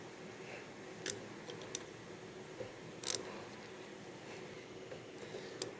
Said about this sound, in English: I'm gonna take my pump pliers here and snug that up.